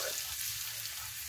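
Bright, steady sizzling of garlic frying in hot oil in a pan, close and continuous for a brief moment.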